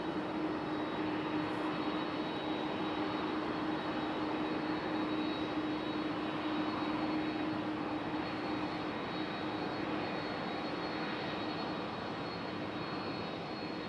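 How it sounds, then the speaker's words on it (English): A JetBlue jet airliner taxiing onto the runway at Raleigh-Durham International Airport produces a constant, fairly loud engine roar with a steady whine, unbroken for the whole stretch. "It's JetBlue. Make its way onto the runway."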